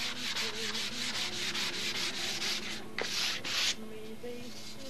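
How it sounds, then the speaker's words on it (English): A sanding block rubs back and forth along a seam on foam wing skins in steady, close strokes, then briefly pauses and resumes more softly. "I'll try to get the block sanding out on a seam before I actually get ready to mold apart"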